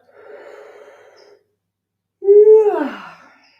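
Deep exercise breathing close to the mic: a long soft inhale, a pause of silence, then a louder forceful exhale with a rough, sighing, snort-like edge.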